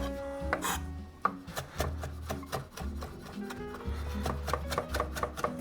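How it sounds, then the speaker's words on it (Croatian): A knife chops a handful of parsley finely on a board for a stuffed-pepper meat filling: quiet, rhythmic taps in quick bursts with short pauses, no voices. "Također ću si pripremiti odmah jednu šaku peršina na sitno"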